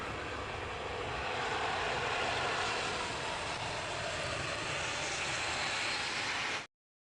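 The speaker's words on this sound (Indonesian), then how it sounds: "gaya dorong atau thrust yang sangat besar yang dimiliki oleh enjin pesawat diubah dengan membalikkan hembusan angin yang super besar ke depan enjin" Loud, steady roar of a passenger jet's engines in reverse thrust during landing braking, broadband rushing noise holding constant for about six and a half seconds before cutting off abruptly.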